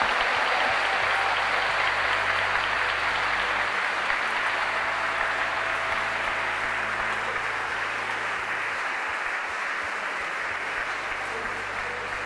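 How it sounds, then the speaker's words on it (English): Audience applause at a graduation ceremony for apprentice graduates, a dense, sustained wash of clapping from a large crowd, loud and even for the whole stretch. "so do let's give them a huge round of applause"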